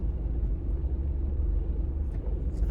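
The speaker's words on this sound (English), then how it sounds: "22 is pretty filled with traffic today." Steady low engine and road rumble from inside a car sitting in heavy traffic on Route 22, a continuous dull drone with no voices.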